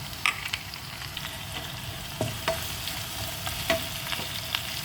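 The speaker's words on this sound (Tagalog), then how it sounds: "Isayin ang sibuyas at saka garlic" Onion, garlic and chili sizzle in a hot pan for chicken liver with egg, a soft steady frying hiss broken by sharp scrapes and clinks of a utensil stirring, close and moderately quiet with no talking.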